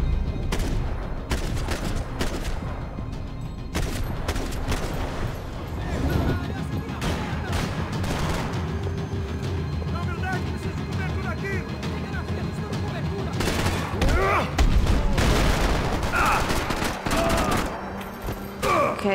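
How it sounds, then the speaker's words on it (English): Gunfire in the video game Max Payne 3, dense rapid shots and bursts crackling continuously across the whole stretch, loud and close, with someone talking over it now and then. "where are you shooting from?"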